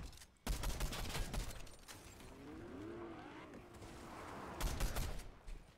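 Bursts of rapid automatic gunfire in the online shooter Warzone, loud volleys opening and closing the stretch with quieter game ambience and a vehicle-like drone in between.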